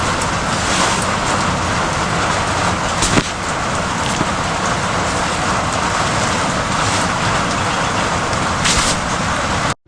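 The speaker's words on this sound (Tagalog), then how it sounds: "Malakas yung ulan." Heavy rain pours steadily in a dense, hissing downpour on a farm, loud and unbroken for the whole stretch, with a faint low rumble beneath.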